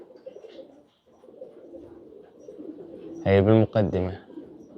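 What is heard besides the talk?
pigeons cooing on a rooftop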